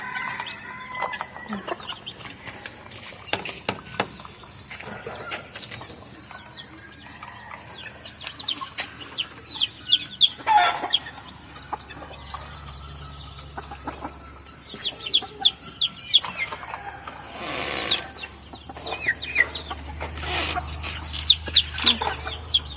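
Golden chickens and chicks in a backyard coop cluck and peep repeatedly, a busy mix of short calls near and farther off over a faint steady hum.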